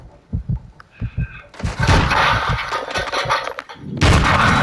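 Gunfire in Call of Duty: Modern Warfare II on a search and destroy match: several sharp shots at the start, followed by a dense, loud burst of continuous fire and impacts that runs to the end.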